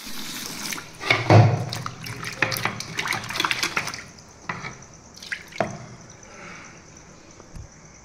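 Tap water runs and splashes while a potato is washed at a kitchen sink, close and fairly loud at first, then thinning to drips and light clatter.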